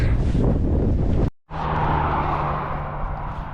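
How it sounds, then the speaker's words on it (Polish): Loud wind rushing and buffeting against a microphone while cycling east on a road, a steady roar broken by a brief cutout, then continuing. "no i już czuję wiatr"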